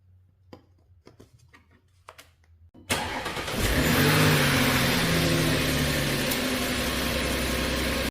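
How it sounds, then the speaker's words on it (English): A 2016 Audi A7 Quattro Prestige engine cranks and fires up after a few quiet knocks, then settles into a loud, steady close-up idle that runs on without pause. "Now let's start the car and let the engine run for a little bit."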